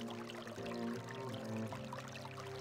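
Hot water runs steadily from a shower in a video game, a continuous wash of spray heard alongside a tonal musical backdrop.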